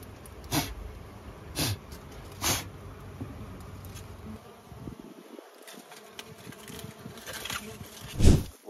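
Bees buzz around an opened honey-filled hive on a farm, a soft steady hum with several louder passes of single bees flying close by.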